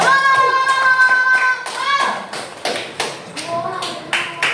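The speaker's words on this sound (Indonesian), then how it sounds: "Oke, harus ada tepuk tangan buat Hilma" Children and a teacher clap for a pupil named Hilma during a class game session. A voice talks first, then a burst of sharp, close hand claps and taps runs to the end.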